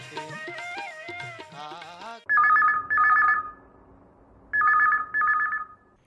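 A telephone rings for a Chhattisgarhi song radio phone-in: four loud electronic double-burst rings in two pairs, separated by a short gap, following a few seconds of singing.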